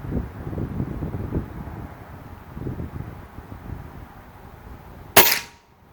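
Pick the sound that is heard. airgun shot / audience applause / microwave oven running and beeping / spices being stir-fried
airgun shot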